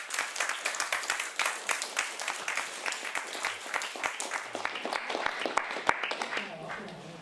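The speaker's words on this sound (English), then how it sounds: "give you a warm applause" A lecture audience gives a warm round of applause after a talk on medieval literature, with dense, even clapping throughout.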